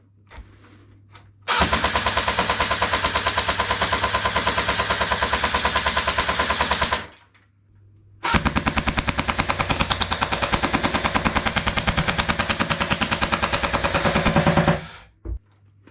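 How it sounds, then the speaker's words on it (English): An airsoft replica Vickers machine gun test fires in two long sustained bursts of rapid, evenly spaced mechanical shots, loud and close, separated by a short pause and ending abruptly. "That's the Vickers machine gun."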